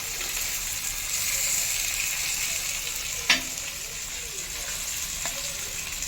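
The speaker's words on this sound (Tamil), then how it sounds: "இப்போ இந்த நம்ம எப்போதும் பலவாறு செய்கிற இடத்துல இது மீனை வறுத்துக்கிட்டு இருக்காங்க." Two whole pond fish frying in a pan, making a steady, loud, close sizzle with a hissing top edge and a single sharp clack of a utensil partway through.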